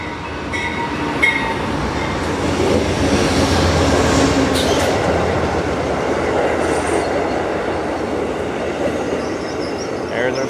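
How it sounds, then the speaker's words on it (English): An Amtrak sleeper train rumbles steadily into a station, wheels clattering and squealing faintly on the rails, with a continuous roar and a few brief metallic accents. "There's our train."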